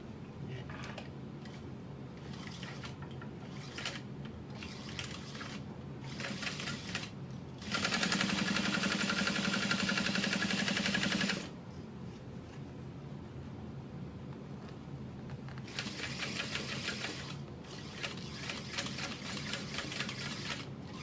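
A sewing machine top stitching a barrel bag runs in one loud, steady burst of rapid stitching, with shorter, fainter stitching runs before and after it.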